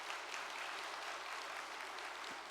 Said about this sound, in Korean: 충남권 우리의 목회자들에게도 한번 격려의 박수를 부탁드립니다